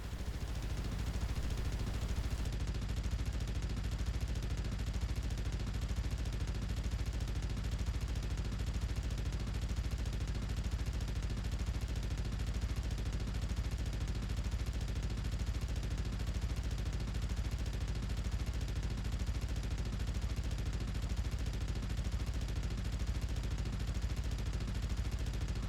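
Three light machine guns in a mech video game fire together in one continuous, dense, loud roar that holds steady throughout with no pauses.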